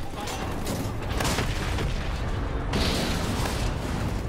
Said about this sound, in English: I'm just gonna throw another grenade.